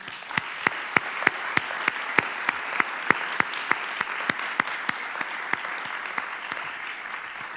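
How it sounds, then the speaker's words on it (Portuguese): An audience at the opening of the Caminhos do Cinema Português film festival applauds steadily, with dense clapping and a few sharp individual claps standing out in a regular rhythm throughout. "Para eles também uma salva de palmas, por favor."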